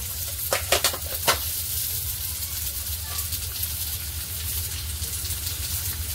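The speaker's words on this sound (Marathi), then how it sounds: "आणि या अरबीला मस्त असं थोडासा कलर येईपर्यंत फ्राय करून घ्यायला।" Arbi (taro root) fries in a pan with a constant soft sizzle, broken early by a few sharp stirring scrapes against the pan before settling into even crackling.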